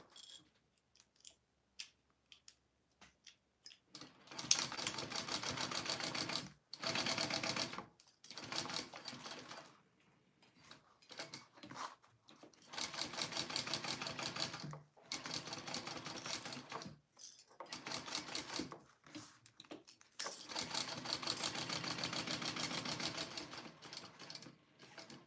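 A sewing machine runs in repeated bursts as a seam on a pocket is basted, its steady mechanical whir starting and stopping with short pauses between stretches of stitching, close and clear with no talking.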